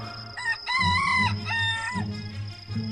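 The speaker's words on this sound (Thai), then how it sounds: "เมื่อไก่ป่าส่งเสียงกันขันครั้งแรก" A jungle fowl crows close by, a loud cock-a-doodle-doo in several drawn-out rising and falling notes, with no other sounds around it.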